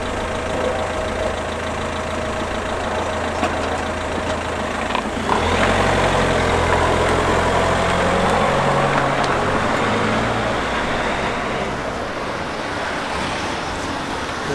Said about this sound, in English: we've got one marked car coming in